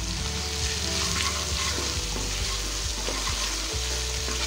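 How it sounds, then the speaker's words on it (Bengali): Cauliflower rezala spices with sugar, cumin, coriander and Kashmiri red chili powder fry on low gas in a pan, a dense, even close sizzle with occasional soft stirring knocks. "1 মিনিট ধরে ভালো করে এটাকে কষিয়ে নেব"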